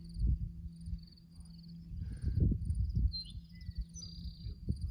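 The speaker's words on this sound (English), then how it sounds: "You can hear the birds chirping and crickets chirping." Crickets chirp in steady pulsing trills in the background on the Appalachian Trail, with a bird call near the end and low rumbling wind or handling noise up close.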